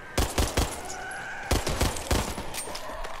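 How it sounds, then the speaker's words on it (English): Pistol gunfire in the video game Back 4 Blood, with sharp close shots in quick bursts: three rapid shots, a pause, then several more spaced shots. "This pistol kinda nasty."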